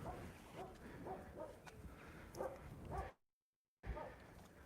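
Several dogs outdoors in Rostov the Great, Russia, bark and yip in a scattered, moderately distant series. Faint background noise runs under them, and the sound briefly cuts out near the end.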